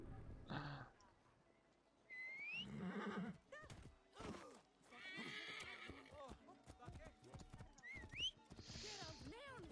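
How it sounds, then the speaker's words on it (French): A horse in the video game Assassin's Creed Origins neighs and whinnies repeatedly while its hooves clip-clop, loud and close, with someone talking over the gameplay. "Donc du coup, bah on va y aller à cheval"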